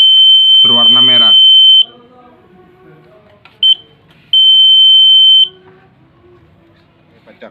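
Homemade microcontroller fire detector buzzer shrilling a steady high beep for about a second, then a brief chirp and another long tone, with a voice speaking over the first beep and quiet room noise between.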